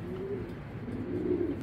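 A female racing pigeon coos nearby in two soft, low throaty rolls, alone with no talk.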